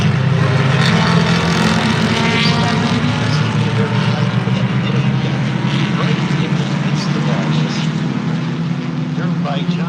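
IMSA RS race cars start a race, their engines forming a dense, sustained drone with a steady low hum, heard under continuous commentary from an announcer.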